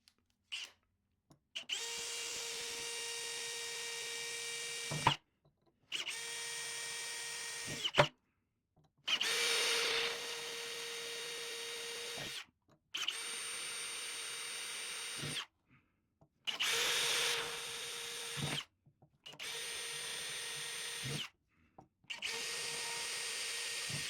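Power drill boring small 2mm pilot holes into a wooden cable drum, heard as a series of about eight separate whirring bursts of a few seconds each, with brief pauses between them, loud and close.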